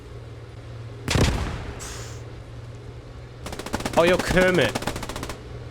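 MP40 submachine guns fire in the World War II game Post Scriptum: an opening burst, then a long rapid rattling volley, with a voice talking over the shooting.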